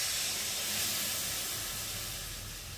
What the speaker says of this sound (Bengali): চলো আমি এখন জলটা দিয়ে দিই।